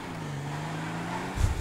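A car in the video game GTA 5 accelerates with a steady, rising engine drone, ending in a short loud thump.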